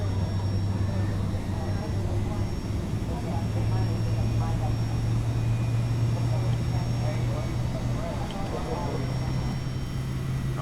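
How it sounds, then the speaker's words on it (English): Airliner jet engine spinning up in the X-Plane 11 flight simulator, a steady low drone and rising whine holding under a voice talking throughout. "And that will start the right engine."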